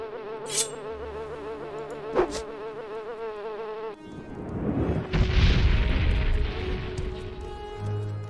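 Bees buzzing in The Elder Scrolls 3: Morrowind, a close, warbling insect drone with a sharp swish of combat, then a rumbling burst of game noise as the buzzing carries on underneath.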